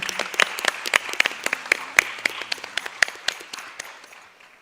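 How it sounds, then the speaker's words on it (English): An audience applauds the musician Suresh Kotandaraman at a Bharatanatyam arangetram, with scattered sharp individual claps over a clapping crowd that gradually thins and fades out. "Now let's give a round of applause to Mr."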